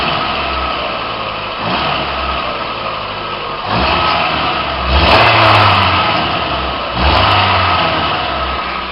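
A Ford Escort MK5 engine revs repeatedly, recorded up close from beneath the car by the exhaust pipe, with loud surging rises and falls between rumbling idle.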